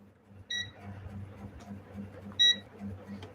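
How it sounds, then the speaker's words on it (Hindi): A multimeter set to buzzer continuity mode gives two short high beeps about two seconds apart while testing a relay or thermostat, over a low electrical hum with faint talk. "देखिए ये मल्टीमीटर को सिलेक्ट कर लेते हैं और सिलेक्ट करते हैं इसको बजर मोड में"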